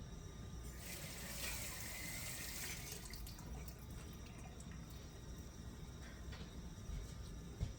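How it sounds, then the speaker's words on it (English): Tap water runs into a sink as asparagus is rinsed in a home kitchen, a steady splashing stream that swells slightly partway through and then continues at a low level with no talk. "Rinse your asparagus."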